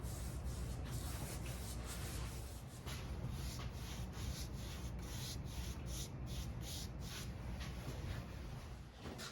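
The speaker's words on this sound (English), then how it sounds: "in between coats I sanded very lightly with 400 grit sandpaper" Light hand sanding of a wooden end table's finish with 400 grit sandpaper between coats of clear water-based urethane: a steady, soft, continuous rubbing hiss at close range, with brief pauses and no talk.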